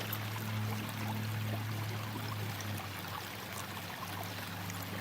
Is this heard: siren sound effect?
no